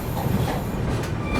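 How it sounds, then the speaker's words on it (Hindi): The 22412 Arunachal AC Superfast Express runs through Gonda Junction without stopping, its wheels and coaches giving a steady, loud rumble with faint squeals, close by and continuous. "यहाँ पर दोस्तों अपनी ट्रेन ने जो है स्किप कर लिया है गोंडा जंक्शन को"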